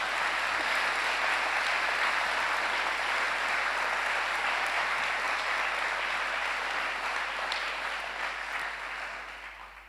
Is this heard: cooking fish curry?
no